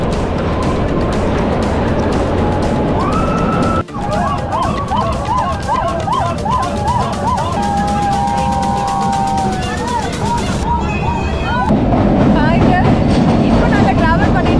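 The Kalka–Shimla narrow-gauge toy train runs through mountain tunnels in India. A loud, steady rolling rumble comes from the carriage interior, with a sudden drop as the train enters a tunnel. Faint whistles and voices are mixed in.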